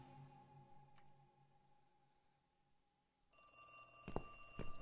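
A telephone rings in The Cat Lady video game, a repeated electronic ringing tone starting partway through over a low, murky ambient drone, fairly loud and close.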